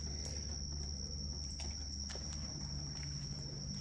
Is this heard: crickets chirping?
yes